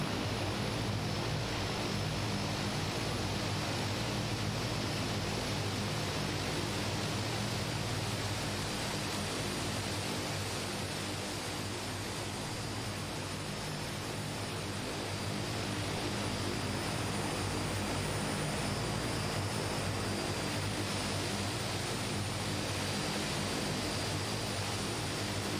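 A de Havilland Twin Otter turboprop arriving at an Alaskan airfield in a flight simulator, a steady broadband propeller and engine roar with a high whine that holds level for the whole stretch.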